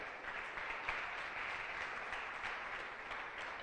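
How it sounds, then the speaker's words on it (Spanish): A church congregation claps as an offering of applause during a sermon, a steady, dense patter of hands at a modest distance, without a break and with no voices over it. "Dale una ofrenda de palmas al Rey de Reyes."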